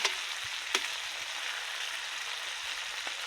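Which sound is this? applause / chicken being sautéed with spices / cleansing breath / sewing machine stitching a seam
chicken being sautéed with spices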